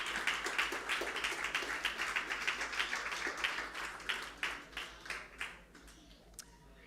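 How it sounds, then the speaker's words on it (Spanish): Applause from a church congregation at an Easter resurrection celebration, a dense crackle of many hands that swells and pulses, then thins into scattered claps toward the end. "Vamos, dale mejor aplauso a Jesús."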